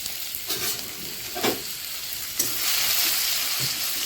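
Garlic fries in hot oil with a loud, steady sizzle, broken by a few scraping stirs of a spoon; no talking.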